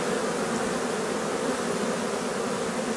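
A swarm of honeybees returning to their hive makes a dense, continuous buzzing drone, loud and close, with no voices over it.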